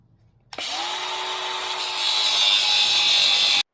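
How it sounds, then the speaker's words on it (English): An angle grinder cuts off the engine governor nub on a mini bike, starting abruptly and holding a loud, steady high-pitched whine with abrasive cutting noise for about three seconds before stopping. "now you're just gonna hop on your grinder, not that grinder, and chop off this little nubbin off the top"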